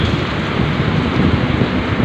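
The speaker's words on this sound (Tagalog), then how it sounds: "ay ang lakas ng ulan." Heavy rain pours down steadily in a dense, constant roar in Cubao, with gusty wind noise buffeting the microphone throughout.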